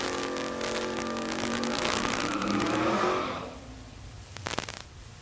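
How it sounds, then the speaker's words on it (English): A drag racing car finishes a burnout at Tulsa Raceway Park, a loud sustained engine roar with tire squeal that swells, then cuts off sharply, leaving quiet background and a brief burst near the end. "Scott Smith finishes his burnout."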